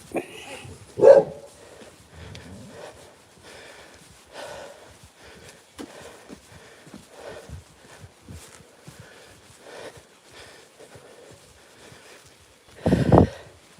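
A dog in the gardens on a morning walk barks in two loud, sharp bursts, one early and one near the end, with quieter scuffling and movement between them.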